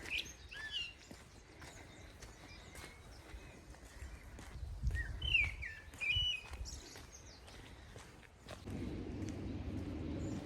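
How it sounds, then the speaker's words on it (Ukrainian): Faint bird chirps and tweets come and go over soft outdoor background noise, with scattered light taps and a low rumble near the end. "Пташки дуже радіють сонцю."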